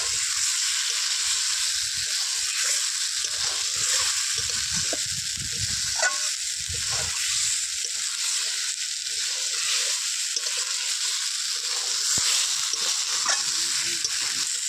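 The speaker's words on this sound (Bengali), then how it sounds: "মাছগুলোকে ভালোভাবে কষিয়ে নেব।" Live chang fish fry and get stirred in hot oil for a fish curry, a constant bright sizzle with occasional soft spatula scrapes and pops, close and steady for the whole stretch without speech.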